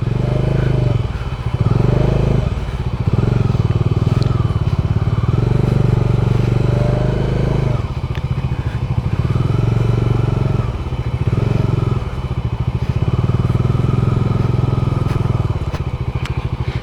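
A motorcycle rides a rocky off-road trail on Parasnath Hill in Jharkhand, its engine droning loud and steady throughout, rising and falling in a few pulses, with clatter and scraping from the rough stony ground.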